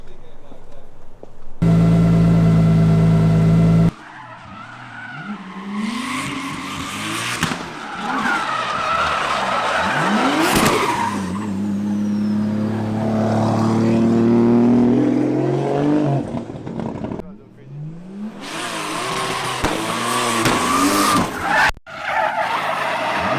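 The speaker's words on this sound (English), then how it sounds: "I'll probably take a few laps to see how the car itself just drifts" Built BMW E90 drift car sliding through laps, engine wailing and tyres screeching in long continuous skids, with bursts of revving and a voice talking over parts of it.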